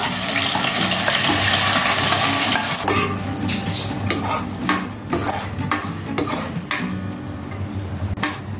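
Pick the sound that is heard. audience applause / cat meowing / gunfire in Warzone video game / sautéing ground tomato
sautéing ground tomato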